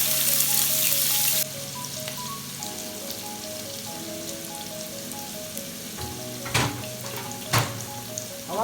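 Chopped onion sizzling and frying in hot oil in a pan, a loud burst of crackling at first that settles into a steady, softer hiss, with a few clunks of utensils and music playing underneath.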